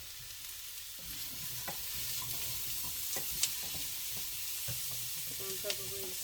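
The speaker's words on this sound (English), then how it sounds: "I'm just sauteing the onions up" Onions and apples sauteing in a pan for deviled sausages, a steady soft sizzle with occasional stirring clinks and scrapes running throughout, fairly quiet and without talk.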